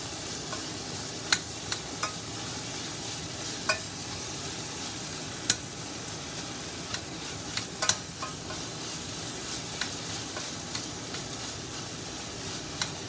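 Onions frying in a pan for a goat ragout, a quiet continuous sizzle with scattered sharp pops and crackles, occasional stirring clicks, no talking.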